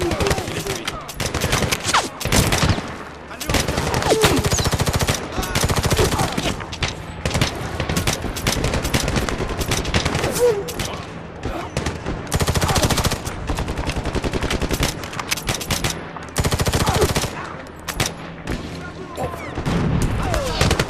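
Dense, sustained machine gun fire in the Medal of Honor video game, loud and continuous with rapid bursts layered over one another and occasional heavier booms, with voices speaking intermittently underneath.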